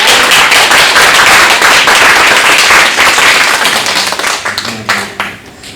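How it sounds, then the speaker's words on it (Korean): A church congregation claps in welcome for a couple during a Sunday service, dense and loud applause filling the room before thinning out into scattered claps and a few voices near the end. "우리 환영과 축복의 박수 한번 드립니다"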